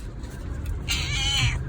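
Newborn kittens meowing, the thin high cries of a stray cat's tiny litter, a short close mew rising over faint background rustle and low murmur.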